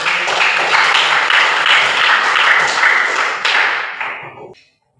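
A classroom group claps together in loud, close applause that holds steady for about four seconds, then fades and stops abruptly.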